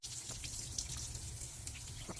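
Water runs steadily through a household machine's plumbing, a quiet continuous faucet-like rush with faint drips and splashes, low in level and without speech.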